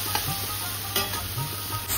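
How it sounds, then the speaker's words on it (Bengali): Spice paste of cumin paste, chili powder, salt and tomato with a splash of water, stirred and fried in a pan for a vegetarian raw-banana dhoka, giving a steady close sizzle with soft scraping strokes throughout. "ভালো করে কষিয়ে নিচ্ছি।"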